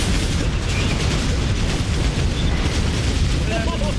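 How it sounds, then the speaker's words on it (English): Explosions in the artillery video game Shellshock Live, heard as dense, loud, continuous booming and rumbling blasts that fill the whole stretch. "A lot of explosions on him for actually not that much damage."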